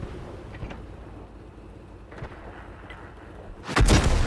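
A KV-2 tank cannon firing in a tank battle video game: one sudden, loud, booming blast near the end, after a stretch of low rumbling battle ambience.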